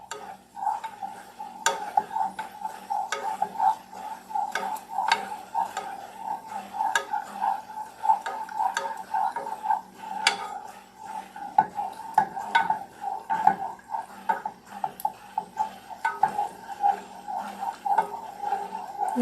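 A spoon stirring a butter mixture as it heats in a pot for cornbread, with a steady swishing scrape and intermittent metallic clinks against the pot, close and continuous.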